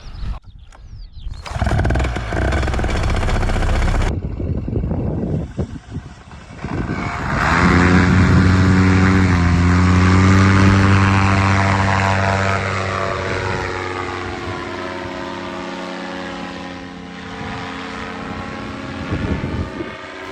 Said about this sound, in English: Tony, the Paramotor's going to depart when it's clear to do so.